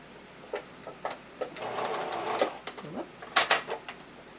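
A sewing machine stitches bra elastic in short, uneven bursts of needle clatter and motor whir, close by, interrupted by brief pauses and handling clicks.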